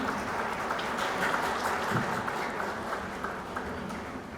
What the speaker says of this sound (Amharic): አሁን ሽልማቱን ደግሞ አጨብጭቡ።